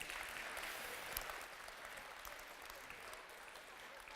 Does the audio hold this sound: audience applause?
yes